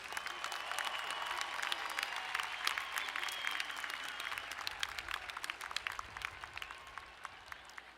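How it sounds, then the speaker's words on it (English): Outdoors in a stadium at a university graduation ceremony, a large crowd applauds master's students, steady clapping fading slightly in the distance, with a few sharper nearby claps standing out toward the end. "One more round of applause for all of our master's students."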